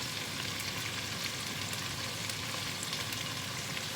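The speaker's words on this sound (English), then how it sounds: "I'm now putting in the celery and garlic" Chopped celery and garlic fry in a pot with a steady, soft sizzling hiss that continues evenly throughout, with no talking.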